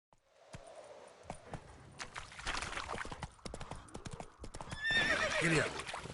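Roach, Geralt's horse in The Witcher 3, galloping with a rapid run of hoof clops that quickens and grows louder, then breaks into a loud whinny near the end.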